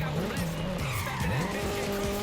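In Forza Horizon, an all-wheel-drive R34 brakes hard from high speed. Its tires skid and squeal in repeated wavering bursts over a loud, close engine.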